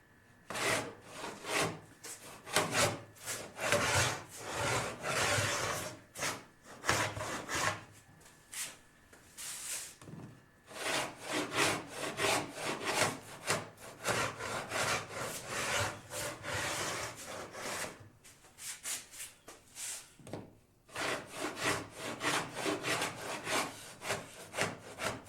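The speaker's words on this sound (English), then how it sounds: "now we can just start smoothing it" A Shaker Enfield cabinet's wood being smoothed by hand with repeated rasping, scraping strokes in long runs, close and steady, broken by a few short pauses.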